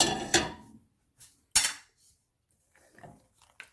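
A metal spoon scrapes and clinks against a pot while stirring almonds into chicken gravy for badami handi, a few sharp, close knocks separated by quiet gaps.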